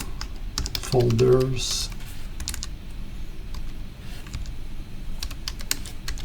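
A commit message is typed on a computer keyboard, with quick, close key clicks in irregular bursts and a brief spoken word over the start.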